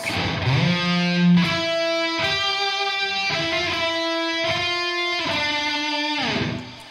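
A distorted electric guitar plays a short melodic phrase of sustained, bending notes, loud and alone with no voices.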